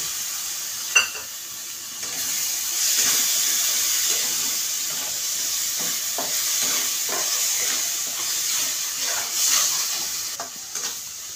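Tomato paste sizzles and hisses in hot oil in a pan while being stirred for a Kolkata-style egg curry, a steady close frying crackle with scraping stir strokes throughout.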